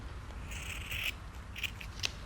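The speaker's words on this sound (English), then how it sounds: "I'm cutting back the seam allowance of the strap a little bit." Scissors trim back the seam allowance on a linen dress strap, giving a few short, soft snips over a steady low hum of background noise.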